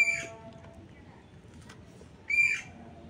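Pet birds let out two loud, harsh squawks, one at the start and another near the end, with a quiet indoor room in between.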